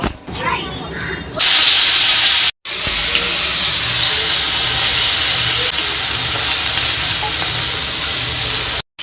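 Ginger, garlic, chilli and tomato paste hits a hot pan and bursts into a loud, steady sizzle that holds for several seconds, with a brief gap midway and a softer voice just before it starts.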